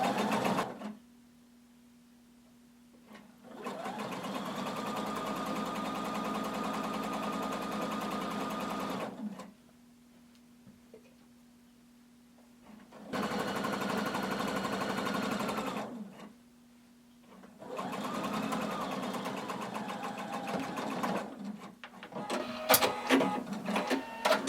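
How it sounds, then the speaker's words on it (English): A sewing machine stitches along the cut edge of a hooded tunic's hem with the presser foot, running in three long steady bursts separated by pauses, loud and close with no talking. "I'm going to sew with my presser foot along the cut edge of my hem"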